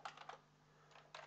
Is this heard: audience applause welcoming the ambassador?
no